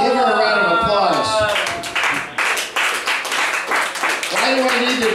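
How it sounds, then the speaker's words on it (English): Comedy club audience clapping after a heckle, a dense burst of applause rising after the first second and continuing steadily, mixed with a voice talking at the start. "Give her a round of applause."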